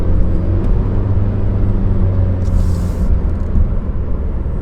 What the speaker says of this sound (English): how loud the gasoline motor is when you need to use it